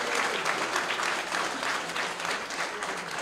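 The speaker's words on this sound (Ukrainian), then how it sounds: "Ваші оплески." Concert audience applauding after a performance of Valentin Silvestrov's works, a steady, dense wash of clapping throughout at moderate distance, with no voices over it.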